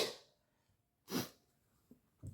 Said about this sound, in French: Je vais éternuer encore.